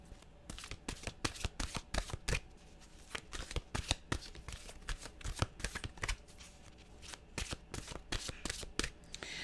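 A deck of mantra cards being shuffled by hand, a fast run of crisp riffling flicks and taps in quick bursts, close and fairly quiet, with no talk.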